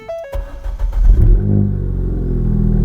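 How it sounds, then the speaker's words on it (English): A Ford Fiesta ST with track upgrades cranks over with a few starter clicks, fires up with a loud rev and then drops into a rough, throbbing idle close by. "this is going to be the first startup of the car"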